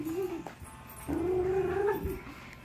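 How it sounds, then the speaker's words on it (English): Dogs whimpering indoors, a few high, drawn-out whines with short yips between them, fairly close and fairly quiet. "Dogs, be quiet."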